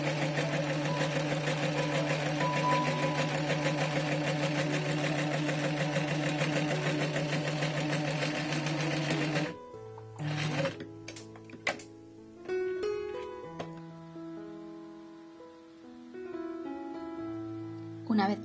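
A sewing machine stitches baby sweatshirt fabric along a marked line, running in a dense continuous whir for about nine seconds, then stopping and giving way to a few short, sparser bursts.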